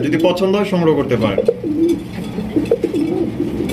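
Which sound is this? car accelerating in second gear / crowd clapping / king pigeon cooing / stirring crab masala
king pigeon cooing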